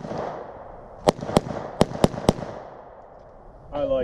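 Five sharp gunshots ring out from a firearm being fired outdoors, spaced irregularly over about a second and a half against steady background noise, followed by a short burst of voices.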